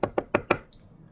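Four crisp knocks in quick succession on a door or hard surface, evenly spaced and close, followed by a brief faint sound and then quiet.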